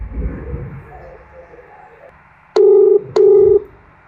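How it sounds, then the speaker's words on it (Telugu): Two short, loud phone keypad tones in quick succession as a number is dialled, following a stretch of faint room noise. "దాని నెంబర్ కొడదా"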